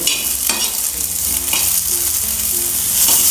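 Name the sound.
fresh tur grains roasting in oil in a ladle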